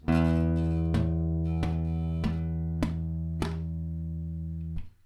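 Guitar strummed repeatedly with five strings muted and the low E open, a sustained low string droning under short muted percussive scratches in a steady rhythm, close and clean.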